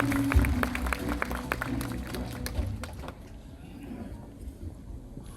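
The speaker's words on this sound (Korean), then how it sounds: "꽃다발 증정식 하는 동안 박수 한번 보내주시면 감사하겠습니다" An audience applauds during a flower bouquet presentation at a legislative report meeting in Ulsan: busy crowd clapping for about three seconds, then dying away into quiet room noise.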